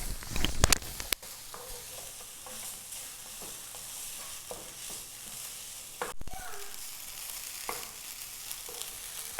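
A crushed paste of green chili, cumin, garlic and shallots sizzles in a pan for jackfruit seed thoran, with a steady soft frying hiss, a spatula scraping and stirring, and a louder splash as it goes in.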